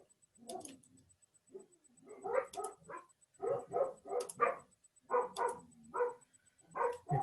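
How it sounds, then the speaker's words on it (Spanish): Several small dogs bark repeatedly in the background, with short bursts in uneven clusters at moderate distance, fairly loud and without talk. "Ahí se están grabando mis perritos igual que están ladrando."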